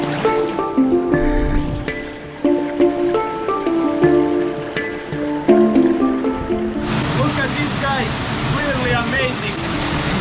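A waterfall in Istria, Croatia roars with broad, continuous rushing water that rises loudly in the final few seconds, after a stretch of music.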